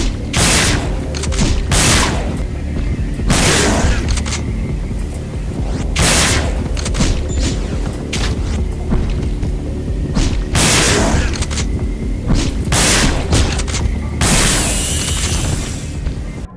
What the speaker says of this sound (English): we're gonna go ahead and test the shotgun, like my original weapon review, on a hunter